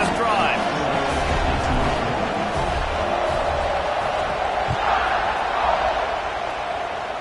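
Stadium crowd in the College Football 26 video game, a broad, steady roar of cheering that holds at full level throughout under the game's broadcast commentary.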